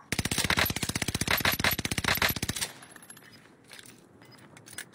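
Light machine gun in a video game firing a fast, steady burst of evenly spaced shots for about two and a half seconds, followed by quieter clicks and rattles.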